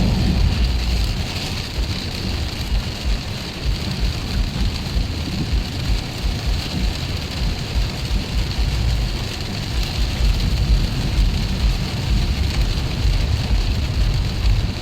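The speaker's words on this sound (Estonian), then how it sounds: "siin tekib uuesti mingi äike Võru koha peal" Heavy rain pours during an evening thunderstorm over the town of Võru, with a dense, loud and steady hiss and low rumbling underneath, without speech.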